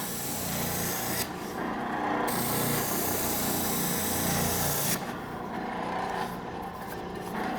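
A spindle sander grinds a wooden piece pushed flat on its table against the spin, producing a loud, steady abrasive rasp over the motor's hum that shifts in texture partway through.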